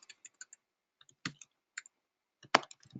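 Typing on a computer keyboard, sparse clicks in short irregular bursts with a couple of louder keystrokes, close and alone in a quiet room.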